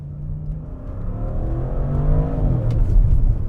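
A 2024 Audi RS6 Avant Performance engine burbles and rumbles under acceleration, a deep throbbing growl that builds steadily in loudness across the clip, heard from inside or close to the car with no talking.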